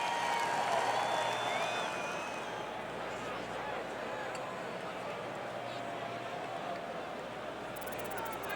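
A golf gallery applauds a birdie with a broad wash of clapping and crowd noise, strongest at first and then settling into steady distant applause, while a commentator speaks over it.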